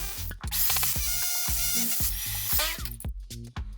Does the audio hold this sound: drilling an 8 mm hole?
yes